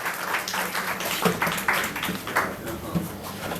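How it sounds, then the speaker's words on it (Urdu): An audience claps steadily at a book launch for Zubia Anwar's Aks-e-Zaat at a DHA library, a dense, moderate-level patter of applause with a voice speaking over it. "Put your hands together."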